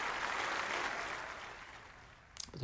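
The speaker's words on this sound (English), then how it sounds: "The applause for frame ball." Snooker crowd applauding a frame ball during a semi-final break, a steady broadband clapping that swells and then gradually thins out, with a brief louder burst near the end.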